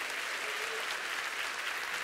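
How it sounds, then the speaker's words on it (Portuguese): A church audience applauding, a dense steady burst of clapping from many hands that holds evenly throughout. "E aqueles que creem, dê um forte aplauso ao Senhor"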